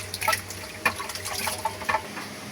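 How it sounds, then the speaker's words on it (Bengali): Chicken livers are rinsed under running water from a tap, with irregular splashes and trickling bursts that are fairly close and faint, and no one speaks. "এই যে কলিজাগুলো ধুয়ে নিচ্ছে"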